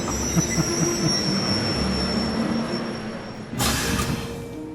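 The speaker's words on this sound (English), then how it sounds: "Looks like a railway station from Harry Potter" A train rolls into a snowy station in the video game Trails of Cold Steel, with low rumbling wheels, a long high steady squeal of brakes and a sudden hiss of released air near the end.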